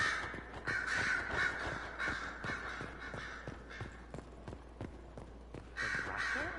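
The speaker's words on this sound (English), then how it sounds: "You don't need to be so loud, bird." Loud, harsh bird caws from Dragon Age: Inquisition repeat in uneven bursts throughout, set over a steady game ambience with no talk.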